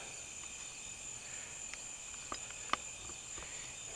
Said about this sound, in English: These bugs.